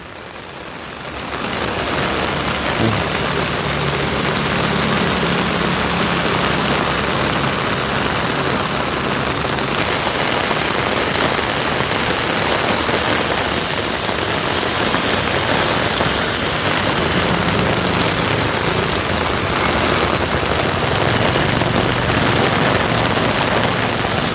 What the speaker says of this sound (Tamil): இப்போ மழை தொடர்ந்து பெய்துட்டேன்